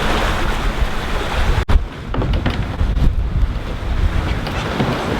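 A sailboat under sail moves through the sea at about seven knots in a moderate breeze, with loud, constant wind roar and rushing water against the hull, and one sharp knock partway through.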